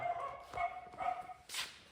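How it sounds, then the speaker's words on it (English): A dog barks about three times in quick succession in a workshop or garage where a 1-ton 4x4 Chevy C30 truck is being worked on. The barks are moderately near, followed by a brief burst of noise, with no talk. "stupid dog."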